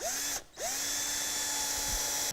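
A power drill drives 2-inch stainless steel screws into steel shingle roofing. The whine is high and close, and it pauses briefly between two screws. Each new start gives a rising pitch sweep as the motor spins up.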